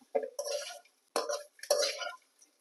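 A sweet potato stir-fry with grated coconut is tossed in a pan, giving three short scraping, clattering strokes of a spatula against the metal, close and fairly quiet, separated by brief silences.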